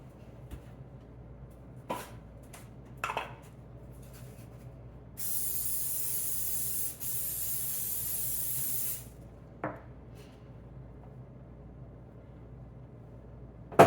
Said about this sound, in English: forgot to spray the insides